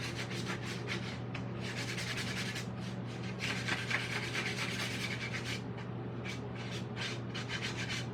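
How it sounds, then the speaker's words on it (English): Hand sanding of a 4th of July craft piece, a steady rhythmic rubbing and scratching of sandpaper in repeated strokes, close and fairly quiet over a constant low hum. "I'm gonna sand this"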